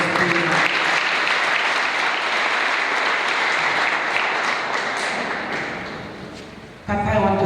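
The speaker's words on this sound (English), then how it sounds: "I request the congregation to give a very big round of applause to Papa Emoremor." A church congregation gives a big round of applause, dense and sustained for about seven seconds before tapering off and cutting to a different sound at the end.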